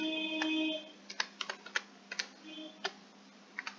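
Typing on a computer keyboard, a close run of irregular light key clicks and taps in short bursts, quiet and with no voice over it.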